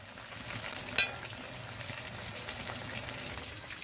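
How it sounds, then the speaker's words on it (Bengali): Chicken pieces frying in oil until red, a soft, steady sizzling hiss heard close but quietly, with one brief click near the start. "চিকেনগুলো মোটামুটি আমার ভাজা হয়েছে"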